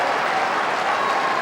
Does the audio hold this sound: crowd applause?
yes